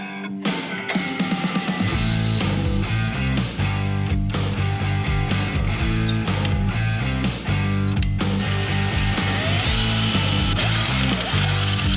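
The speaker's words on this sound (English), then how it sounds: "So I need to drill this hole out here too to fit this bracket on" A power drill runs loud and continuously into a metal shock mount bracket, its whine steady with small shifts in pitch as it bites.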